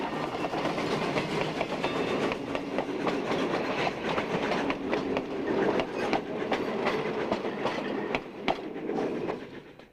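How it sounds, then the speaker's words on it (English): A working steam locomotive train rolls along at Railtown 1897 in Jamestown, California, heard from an open-windowed passenger car: a steady rumble with a repeating clickety-clack of wheels over rail joints, moderately loud and continuous. "bringing with them the sounds and smells of a working steam locomotive"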